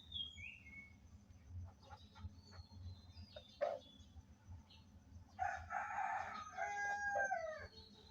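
A rooster crows loudly and clearly in the later seconds among chickens, ducks and pigeons let out in the morning at a rural Bangladeshi homestead, with softer clucks and bird calls earlier over a steady low background hum.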